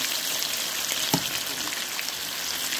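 An eggplant omelette frying in a pan makes a continuous crackling sizzle, close and even, with a single soft knock partway through and no talking.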